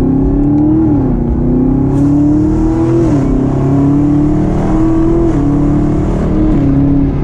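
A 2019 Camaro ZL1 1LE automatic in manual mode drones loudly and steadily, its engine pitch climbing and then dropping sharply several times as gears change in quick succession.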